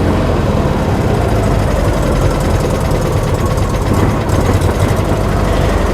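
A VW Beetle engine runs at a steady idle, a loud, even, close-up mechanical drone with no voices over it.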